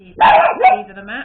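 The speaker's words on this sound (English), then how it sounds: "sorry, that's my dog barking." An indoor dog lets out a few quick, sharp barks close to the microphone, overlapping a person talking.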